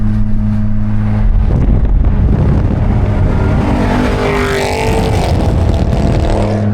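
At a Cars & Coffee meet, a car floors it and accelerates hard, a loud, close engine roar that climbs in pitch and sweeps past mid-clip before settling back.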